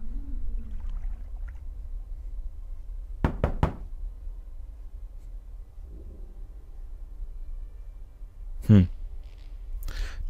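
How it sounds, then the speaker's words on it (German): A door knocked on in the video game Tale of a Hero: a quick cluster of three sharp raps, then after a pause a single heavier knock and a later faint tap, with quiet background ambience. "Na, klopfen wir mal."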